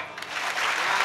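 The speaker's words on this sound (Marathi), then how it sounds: "एकदा मोकळ्या टाळ्या वाजवा." Audience applause at a Marathi kirtan, dense and steady clapping from a large crowd close by throughout.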